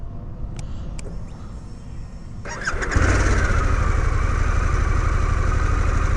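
A 2022 Harley-Davidson Pan America Special motorcycle engine cranks and fires up at about the three-second mark, then settles into a loud, steady idle close by.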